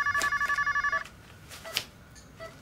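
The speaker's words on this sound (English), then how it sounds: "I have a phone call." A telephone bell rings in a steady repeated pattern for about a second, loud and close, then stops, leaving a few faint knocks and rustles in a quiet room.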